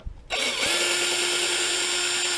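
A power drill spins out screws from an X-MAXX RC truck's steering servo. It gives a short click, then a steady, close, high-pitched motor whine that holds for about two seconds, with no talking.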